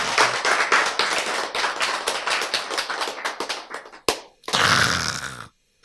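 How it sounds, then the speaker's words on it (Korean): Brisk clapping at a Korean health lecture on allergies and longevity, a run of sharp close claps that thins out, pauses, then bursts again briefly before stopping. "박수! 이야!"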